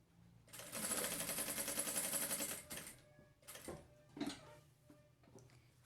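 A sewing machine runs steadily for about two seconds, stitching across the leg seam of a small fabric backpack, then stops and restarts in a few short bursts. The whirring is close and fairly loud, with no talk.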